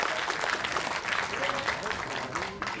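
A crowd at a society's souvenir-booklet inauguration event gives a round of applause, steady clapping mixed with voices speaking over it.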